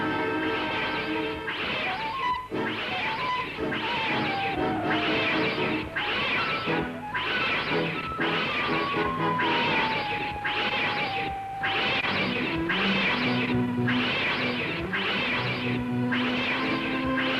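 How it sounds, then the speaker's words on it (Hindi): Several cats meow in a continuous, overlapping chorus, loud and close. The drawn-out, wavering cries follow one another in a steady rhythm for the whole stretch. "बिल्लियाँ।"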